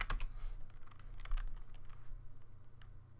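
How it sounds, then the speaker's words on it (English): Rapid keystrokes on a computer keyboard as an npm install command is entered, a close, busy burst of clicks at first that thins to scattered taps, with no talking. "We're going to type in npm space install express"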